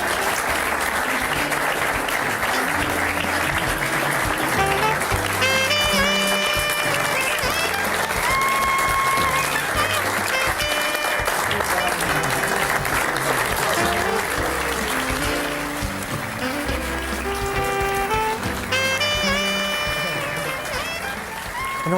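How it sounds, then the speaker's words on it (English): An audience gives a sustained round of applause at the close of a live stage show, with steady crowd clapping layered under loud music with tonal lines and a driving beat throughout. "Ladies and gentlemen, a round of applause for Larry and Geraldine."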